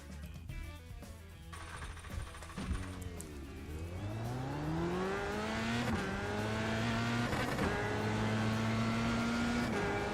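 Race cars roar past in a sim racing game, engines revving up through rising gear shifts with a sharp drop between gears, a loud, steady whine climbing and sustaining close by.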